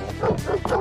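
A dog in a kitchen gives a quick run of sharp, close barks and yips, three or so bursts in under a second.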